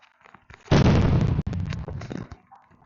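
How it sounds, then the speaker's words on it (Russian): Dynamite goes off in the video game Chicken Gun, a single sharp close explosion with a crackling burst and brief rumbling tail, followed by a few smaller popping after-sounds that fade out. "Динамит добавили, понимаете?"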